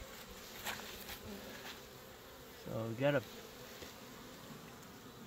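Home-bred honey bees hum steadily at an open hive, a soft close buzz running throughout while a person briefly speaks.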